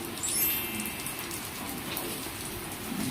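Steady rain falls outdoors during a storm, a dense, even patter of drops on surfaces holding at a constant moderate level throughout, with no voices.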